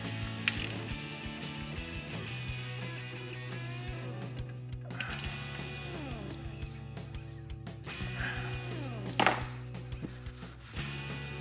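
Mechanical clicking during an oil change, a ratchet working on a bolt with repeated pawl clicks and metallic rattles across the clip, close and fairly steady with a sharper burst near the end.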